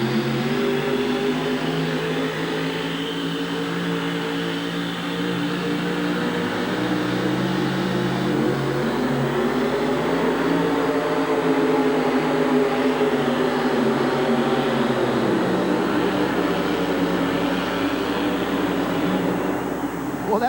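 A 1,700-horsepower Ford pulling truck roars steadily through a pull at a 1987 monster truck and truck pulling event in the Houston Astrodome, a loud sustained engine drone over arena noise throughout.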